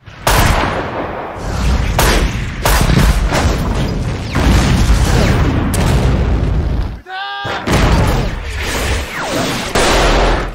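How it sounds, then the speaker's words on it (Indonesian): Heavy booms of cannon fire thunder repeatedly, loud and close, amid a dense, chaotic battle din with voices shouting over it. "Tentara kekaisaran itu kemudian menembakkan Meriam."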